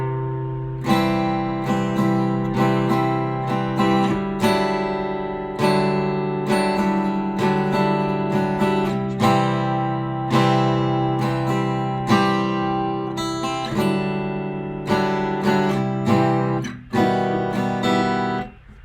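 Slow rhythm guitar strumming in a heavy rock style, loud and close, with repeated downstroke chords in an even pattern and no voices over it.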